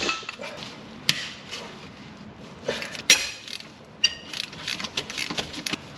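Hand tool loosening bolts to free the belt on a classic Honda engine, a series of sharp metallic clicks and ratcheting taps, close and irregular, with quiet handling noise between.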